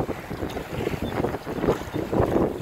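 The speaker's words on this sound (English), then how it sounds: "I'm just picking up a little bit of this wind." Gusty wind buffets the microphone aboard a sailboat on Lake Superior in rough conditions, a loud rumbling roar that surges and eases in uneven waves, with no voices.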